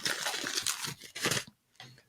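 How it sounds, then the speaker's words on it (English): Crinkly rustling of paper being handled, a few bursts of crackling close up, with a short pause before a final soft rustle. "So this is my little piece of paper."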